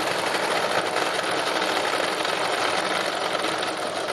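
A sewing machine runs steadily while stitching plain fabric for an autumn landscape, giving a close, continuous, rapid mechanical whirr and needle chatter with no pauses.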